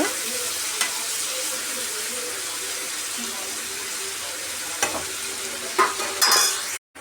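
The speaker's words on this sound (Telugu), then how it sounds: "టమాటా కర్రీ ఇంకా ఎగ్ వేస్తున్నాను అనమాట" An egg frying in tomato curry gives a steady sizzle throughout, with a few sharper clatters of stirring near the end.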